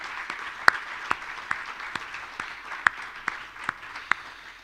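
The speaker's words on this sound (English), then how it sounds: "Let's give him and the team a round of applause." A county budget presentation audience gives a round of applause, many hands clapping steadily at moderate distance, with a few sharper individual claps standing out over the few seconds.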